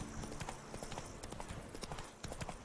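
Horses trotting across a meadow in The Witcher 3: Blood and Wine, hooves clip-clopping in a steady, fairly quiet rhythm over soft ambient noise.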